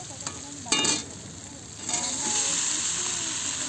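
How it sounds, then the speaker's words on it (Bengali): Pasta going into a pan of fried onions and tomatoes, with a scraping stir and a burst of clatter near the start, then a sizzle that swells and holds steady close by. "এবার পাস্তাটা দিয়ে দেবো।"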